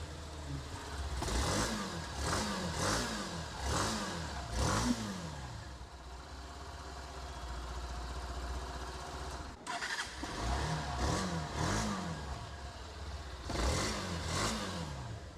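A Hero Xtreme 160 motorcycle engine starts and revs in repeated rising blips, close and loud, settles into a steady idle, then cuts briefly before revving again in several more sharp bursts.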